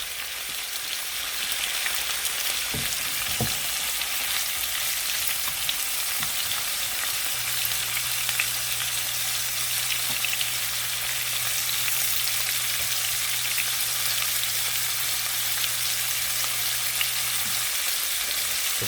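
Morels and asparagus fry in oil in a pan, giving a steady, close crackling sizzle throughout, with a few brief clicks near the start and a low hum running along under the frying.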